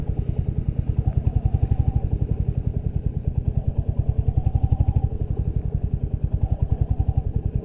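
Royal Enfield Hunter 350 single-cylinder engine running with the throttle rolled on and off, a steady deep thumping pulse that swells and eases slightly, close and fairly loud.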